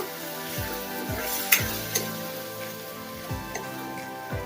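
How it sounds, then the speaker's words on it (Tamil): Tomatoes sautéing in a pan with ground paste for a brinjal and drumstick tamarind curry: a soft, steady sizzle under repeated scraping and knocking strokes of a stirring spoon, close and fairly quiet. "தக்காளியையும் வதக்கிக்கலாம் நல்லா"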